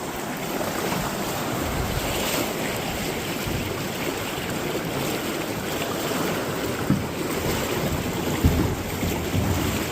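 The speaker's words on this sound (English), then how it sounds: "Look at those rapids." River rapids rush in a loud, steady broadband roar of turbulent water, close and continuous throughout with no voices and a few small splashes near the end.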